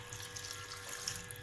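Water pours steadily into a pot of pea kurma gravy with potato, a brief bright splashing stream close by.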